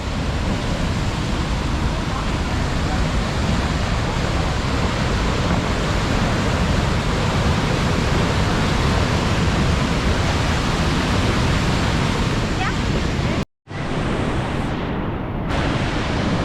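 Parawiyan Ella waterfall in Sri Lanka's Uva region roars as a dense, continuous rush of falling water, loud and unbroken, briefly cutting out near the end before resuming.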